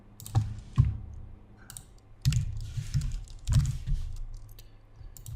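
Computer keyboard typing in bursts of quick clicking keystrokes, close and fairly crisp, with short pauses between clusters and no voices.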